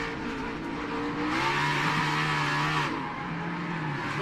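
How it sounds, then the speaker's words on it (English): A NASCAR stock car spins out after hitting debris near a curb, tires skidding with a sustained squeal over the rising and falling engine drone, heard close and loud from an onboard view. "Truex gets spun around right here."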